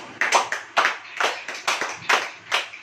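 Clapping from a congregation at a church service, a few sharp claps in an uneven rhythm, close and distinct with short gaps between bursts.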